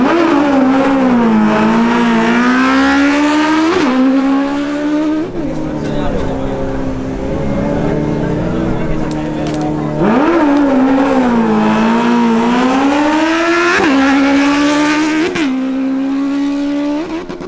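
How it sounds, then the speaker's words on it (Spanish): A Honda CB1000R motorcycle makes a drag racing run, its engine revving loudly through rising gear pulls with brief drops at shifts, under a commentator's announcing voice. "Damián Camacho en su Honda CB1000R realiza una nueva pasada"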